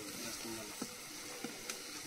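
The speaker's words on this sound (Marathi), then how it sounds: "थोडं आपण तेल टाकूया." Cooking oil hitting a hot pan sizzles faintly and steadily, with a few soft clinks of a utensil against the pan.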